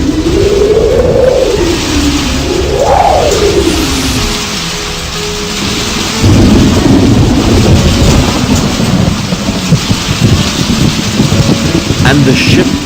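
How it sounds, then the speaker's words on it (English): A heavy storm during a disastrous sea voyage: howling wind rises and falls in two loud swells, then settles into a dense, steady roar of pouring rain with low thunderous rumbling throughout. "There was a heavy storm."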